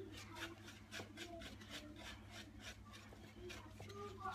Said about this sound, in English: Then you have to give it a good whisk.